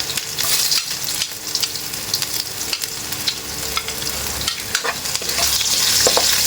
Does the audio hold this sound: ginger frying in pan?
yes